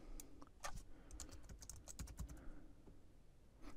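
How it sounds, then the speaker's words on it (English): A computer keyboard being typed on in quick, uneven bursts of light clicky keystrokes, close and quiet, with no talk. "if I go over here and type another statement in the query window"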